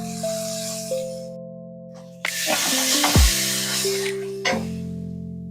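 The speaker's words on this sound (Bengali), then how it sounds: "সুন্দর করে কষাও, টাইম নিয়ে কষাও।" Tomato spice paste sautéing in a pan for begun bharta gives bursts of sizzling and stirring under sustained musical tones, loudest in the middle with a shorter burst near the end.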